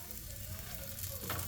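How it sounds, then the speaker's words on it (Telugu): Chapati roasting in oil on a hot pan, a soft continuous sizzle and crackle up close, quiet and steady throughout. "సో ఇదండి చపాతీ అయితే ఇలా కాల్చుకోవాలి."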